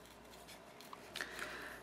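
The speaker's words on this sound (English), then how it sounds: "then we will keep cutting. We're going to fussy cut the thankful." Scissors snip through paper cardstock while fussy cutting a craft piece, giving a few faint, quick close-up cuts in a quiet room.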